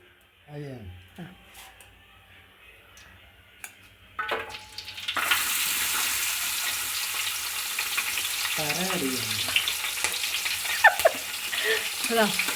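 A steady loud sizzle starts partway through as food hits hot oil in a pan and keeps frying close up, with talking and a laugh over it and a few clinks of utensils.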